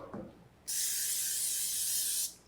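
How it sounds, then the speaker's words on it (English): A short bump is followed by a can of non-stick cooking spray spraying in one steady hiss for about a second and a half, close and loud. "I spray that with a little non-stick cooking spray so it comes out easily."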